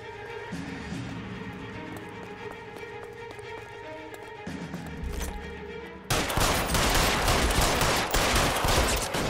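Gunfire erupts in an L.A. Noire shootout, a dense burst of loud rapid shots and crackling impacts after a quieter stretch of clattering sounds with scattered sharp clicks.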